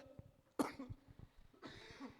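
A single sharp cough close by from a pastor during a Spanish-language sermon, followed by a softer breathy sound, against a quiet background.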